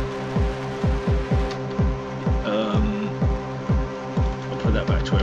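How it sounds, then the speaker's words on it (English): An ambient, noisy drone synthesized in Ableton Operator, with layered sustained tones pulsing in a regular throbbing rhythm and gritty noisy texture on top, moderately loud with no voice over it. "That's a little drone I made."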